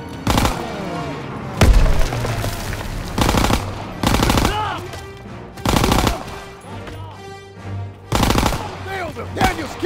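Loud bursts of machine gun and rifle fire in a World War 2 video game battle, repeated volleys every second or so with booming impacts and a faint voice calling out between them.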